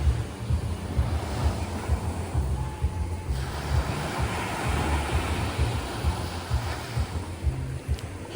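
Autumn sea waves wash steadily onto the shore at Gangneung, a continuous broad roar of surf with wind buffeting the microphone, no voices.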